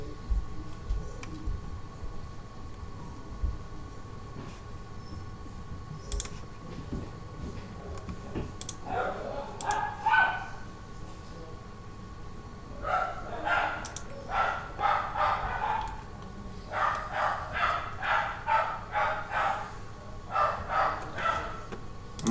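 Several dogs bark in repeated bursts at a distance indoors, the yapping clusters growing busier partway through, over a low background hum.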